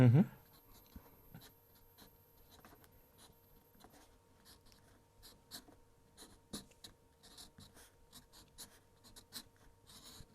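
A pen sketching a quick Superman drawing on paper, with soft, intermittent scratchy strokes in short bursts, faint and close, after a brief louder bump at the start.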